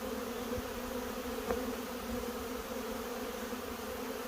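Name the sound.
honey bee swarm buzzing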